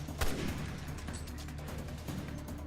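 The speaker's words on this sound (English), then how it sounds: "Now quickly let's pick up the sniper rifle bullets that are here and shoot that iron head." Sniper rifle fire in Resident Evil Revelations 2, a single sharp booming shot near the start followed by a dense rumbling game soundscape with faint further impacts.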